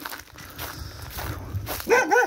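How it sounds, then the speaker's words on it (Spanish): A small dog barks in a quick burst of several high yaps near the end, heard outdoors in a remote village on an island, after a stretch of footsteps and ambient noise. "Uy, vino un perrito."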